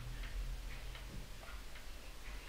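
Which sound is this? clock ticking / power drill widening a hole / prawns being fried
clock ticking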